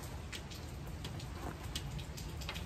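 Steady rain falling outdoors on Halloween, a soft continuous hiss of drops with scattered brighter patters, fairly faint and with no talking.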